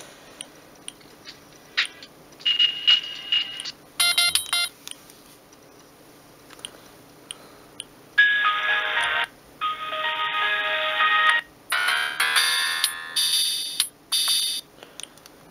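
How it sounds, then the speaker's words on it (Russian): Ringtone melodies on a Siemens S65 mobile phone, a series of short electronic beeping tunes in separate bursts with quiet gaps between them, heard close with no talking. "есть также рингтоны, которые я сюда ставил"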